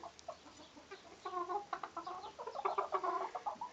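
Several Wyandotte chickens cluck softly and continuously nearby, their short, repeated calls overlapping in a quiet, busy coop chatter.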